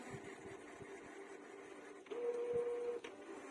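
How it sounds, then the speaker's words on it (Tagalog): A Canon inkjet printer running a cleaning cycle, its mechanism whirring quietly with faint clicks, then a louder steady motor whine for about a second before it drops back to a soft hum. "Yung pangit lang kasi sa printer, cleaning siya ng cleaning, tapos ikot ng ikot."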